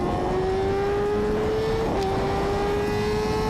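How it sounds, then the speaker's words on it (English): A Kawasaki Ninja H2R motorcycle engine holds a steady high-pitched whine, briefly dipping and shifting pitch near the two-second mark like a gear change, loud and close throughout with no talking. "this is a video of the Kawasaki Ninja H2R,"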